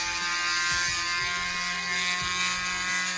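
A high-pitched rotary tool with a sanding bit whines steadily as it grinds into an action figure's thigh, a constant buzzing hum with faint low rattles underneath, close and fairly loud.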